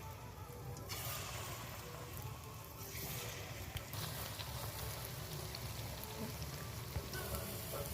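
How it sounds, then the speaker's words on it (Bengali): Palm fritters of rice-flour batter frying in hot oil, a steady broadband sizzle and bubbling that runs throughout, fairly close and continuous with no talking. "তেল গরম হয়ে গেছে ছোটো ছোটো করে দিয়ে দেবো"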